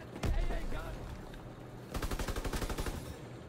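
Gunfire from the video game Call of Duty WWII: a single heavy shot, then a rapid burst of about a dozen automatic rounds, close and loud, with no talk over it.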